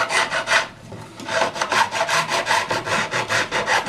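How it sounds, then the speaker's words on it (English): A finer, medium-grit file works the frets of a vintage Sakai/Audition electric guitar in quick, rhythmic rasping strokes, close and clear, with a short pause early on before the strokes resume steadily. "I'm switching over to this finer file."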